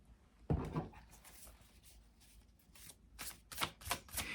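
Tarot cards shuffled and drawn from a deck, a series of soft papery riffles and slaps, close and fairly quiet, with a louder burst of flicks near the end.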